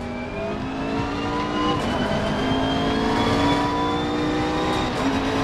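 Race car engine in Assetto Corsa Competizione, a sim racing game, droning steadily with rising and falling revs and gear changes throughout, loud and continuous with no talk.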